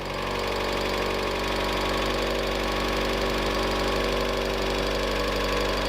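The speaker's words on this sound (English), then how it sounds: "Right now it's idling like 1400 RPM, so I need to turn it down" A Mazda Miata 1.8 engine idles steadily at about 1400 RPM, a loud, constant mechanical drone with even rhythmic pulsing and a faint whine, running alone without talk.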